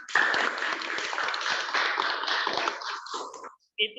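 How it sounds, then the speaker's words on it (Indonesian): Classroom applause for a student, a dense burst of many hands clapping together at close range that carries steadily for about three seconds before stopping abruptly, followed by a short pause and a brief voice. "Tepuk tangan untuk Iwan."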